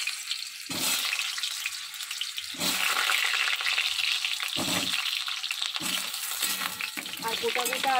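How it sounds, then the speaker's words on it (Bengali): Whole potatoes frying in hot oil in a home kitchen, a loud continuous sizzle broken now and then by stirring and shifting, heard close up throughout. "আগে আলুটা ভেজে নিই"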